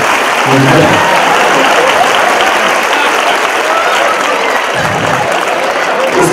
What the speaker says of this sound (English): Give Shirley a big round of applause.